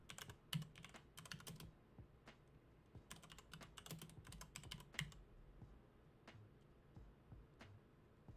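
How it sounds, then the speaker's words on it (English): Fingers type on a computer keyboard in irregular bursts of close, crisp key clicks with short pauses between runs, quiet and alone with no talking. "Pardon me while I'm typing."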